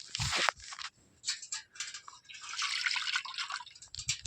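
Water splashes and trickles in uneven bursts from a metal water pot, with a few brief pauses, poured out close by.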